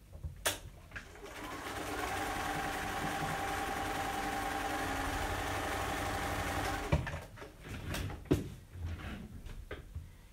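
Sewing machine stitching a quilt block, a steady mechanical whir running continuously for several seconds at moderate level, followed by a few clicks and handling knocks as the fabric is adjusted.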